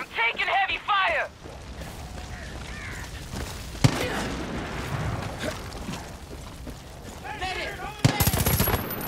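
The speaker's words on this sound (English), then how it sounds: "I'm taking heavy fire!" Far Cry 5 combat gunfire, heavy incoming shots and loud blasts cracking through a firefight, with frequent shouting voices and radio-style chatter over continuous battle noise.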